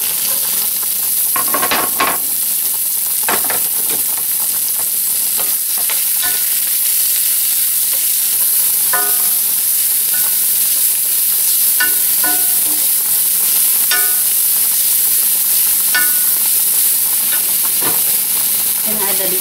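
Onion frying in a pan for Swiss chicken with pasta, a loud, continuous close sizzle and hiss running throughout, punctuated by occasional light spatula scrapes and clicks against the pan.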